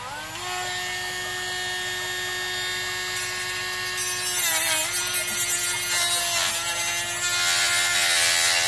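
Small grinding blade on a compact rotary tool cutting slowly through a coconut shell, a steady high-pitched whine with rasping grit that roughens and loudens midway as the blade bites deeper, continuous and close with no talking.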